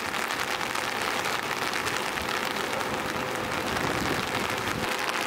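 Rain falls outdoors in Tokyo on an election day, a steady dense hiss of drops on surfaces, even and continuous throughout, with no voices.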